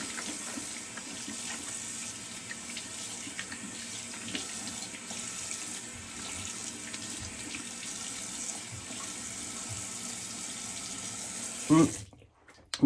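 A bathroom tap runs steadily for about twelve seconds while shaving soap is rinsed off, a constant close hiss of water that cuts off abruptly near the end.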